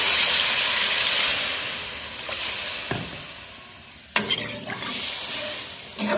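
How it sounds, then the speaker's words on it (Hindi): Water poured into a pot of fried spices bursts into loud broadband sizzling and hissing steam, with sharper spikes near the start and again midway as more liquid hits the hot oil, no voices present. "अब 1/2 kg हम इसमें वाटर ऐड कर देंगे"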